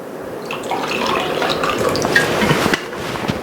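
High pH water runs steadily from a tap over produce as it is rinsed, a continuous close splashing stream with small drips and clinks throughout.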